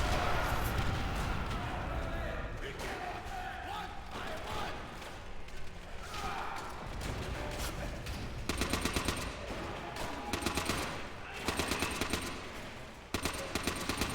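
StG 44 Sturmgewehr assault rifle in Call of Duty: World at War, with bursts of automatic fire amid dense battle noise, short crackling volleys recurring near the end over a continuous wash of combat sound.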